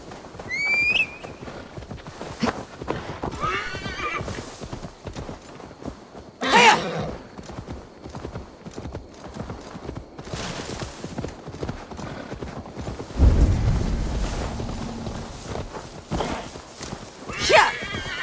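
In Assassin's Creed Valhalla, a horse's hooves clip-clop in uneven bursts of trotting and galloping, broken by a few sharp whinnies, with game voices speaking at moments in between.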